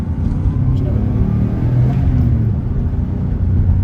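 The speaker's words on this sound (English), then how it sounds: "When that turbo spools up, it really tries to get away from you." A turbocharged JDM car engine accelerating while driving, heard from inside the cabin as a steady, heavy low rumble that holds a constant loudness throughout.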